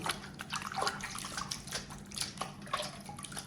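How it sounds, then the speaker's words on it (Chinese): Running water rinses pork bones for a braised soy-sauce bone dish, a continuous close splashing and trickling with irregular drips and surges, no talking. "先用清水给它清洗一下。"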